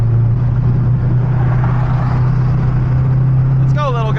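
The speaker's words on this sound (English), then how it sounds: "There is like a Challenger coming." A Dodge Challenger approaches on a highway, its engine a steady loud drone heard from inside a car alongside a turbocharged K24 Honda, with continuous road and engine noise throughout.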